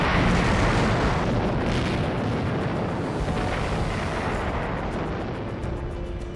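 Bomb explosions during the WWII Japanese attack on Pearl Harbor, Hawaii, in archival recording: a loud, sustained roaring rumble that fills the whole stretch, slowly easing off near the end.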